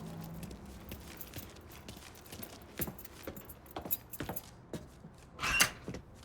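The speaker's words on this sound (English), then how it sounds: "Lincoln, pick up the keys." Keys are picked up in the Mafia III video game: a scatter of small metallic jingles and clicks, with sharper bursts toward the end, over low ambient game sound.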